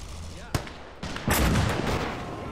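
Tank gunfire in the Gates of Hell war game: a sharp cannon blast followed by heavier rumbling fire and explosions, loud and dense amid battle noise.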